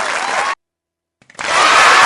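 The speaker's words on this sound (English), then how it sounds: "Clap it up, clap it up, clap it up" Audience applause on a podcast, a loud burst of clapping that cuts out abruptly into silence, then swells back in as strong, full clapping to the end.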